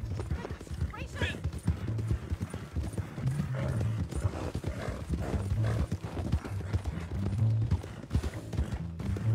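Horse hooves clip-clop steadily in Red Dead Redemption 2, a rhythmic run of close, fairly loud hoofbeats with an occasional snort or whinny over the game's other sounds.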